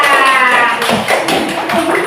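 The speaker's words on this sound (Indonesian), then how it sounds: "Tepuk tangan dulu buat anak soleh dan soleha." Children in a classroom break into a brief burst of clapping, a quick run of close, bright claps following a moment of quieter room sound.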